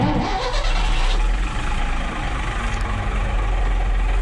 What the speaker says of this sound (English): First time the engine's been started for about 2 to 3 weeks